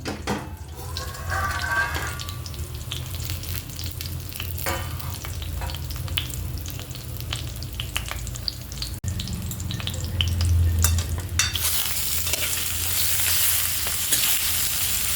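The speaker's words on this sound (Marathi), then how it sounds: "वांगे खालीवर करून घ्यायचे थोडे" Eggplant pieces frying in a pan over a low flame while being stirred and turned, a loud continuous sizzle with repeated scraping strokes and a brief rush of water partway through.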